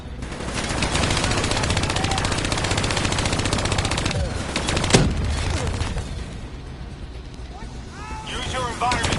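Sustained rapid turret fire from Call of Duty Black Ops III, a dense loud automatic rattle with explosive bursts partway through and chirping effects near the end.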